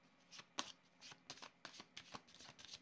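A deck of cards for a reading being shuffled close and quietly, a rapid run of riffling flutters and soft slaps in quick succession.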